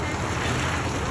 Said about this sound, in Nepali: कस्तो आनन्द आउँछ पानीको आवाज सुन्दाखेरि।